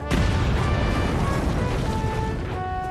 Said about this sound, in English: explosive blasts